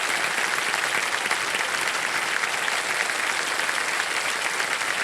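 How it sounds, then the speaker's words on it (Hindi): A studio audience on the quiz show Kaun Banega Crorepati applauds a contestant, a loud, steady wall of clapping that holds evenly without pause from start to finish. "तालियां बजती रहे इनके लिए"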